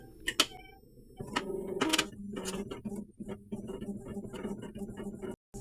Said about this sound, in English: The printer will automatically print a nozzle check pattern.